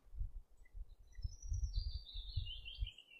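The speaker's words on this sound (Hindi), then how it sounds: "पैरट को हम हिंदी में तोता कहते हैं।" A parrot calling in short, bright chirps and a longer sliding squawk, fairly faint over a low rumbling background, with no talk.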